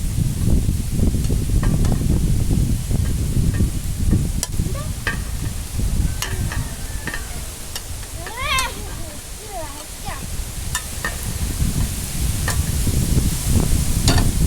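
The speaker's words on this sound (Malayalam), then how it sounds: "നന്നായി തിളച്ചിട്ടുണ്ട് കേട്ടോ" Egg curry bubbles and boils steadily in a pot as eggs are dropped in, a constant simmering hiss with soft splashes and clinks, while a voice talks over it.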